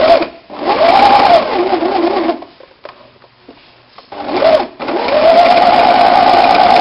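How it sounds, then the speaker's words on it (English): A sewing machine stitching a tote bag runs in fast bursts of rapid mechanical stitching, stopping briefly in the middle before starting up again, close and loud. "I'm off to the sewing machine."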